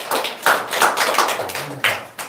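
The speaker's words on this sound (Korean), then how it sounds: "박수 한번 쳐봐요." Congregation clapping hands during a Korean Sunday morning church service, a short burst of uneven, close claps with separate sharp hits, heard alone without speech.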